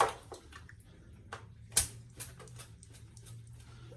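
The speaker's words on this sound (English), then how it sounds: "I'm just pouring the water in here and I'm just swirling it." Water is poured into a container and swirled to rinse shave soap out, giving soft sloshing and scattered splashes and drips with one sharper splash, fairly close and without talk.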